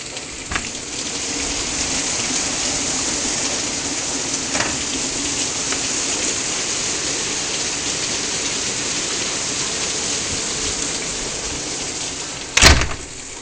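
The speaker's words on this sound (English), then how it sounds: "this fucking rain is like sheets coming down" Heavy rain pours down in sheets during a southern thunderstorm, a dense, steady roar of water on surfaces with no voices and a single sharp knock near the end.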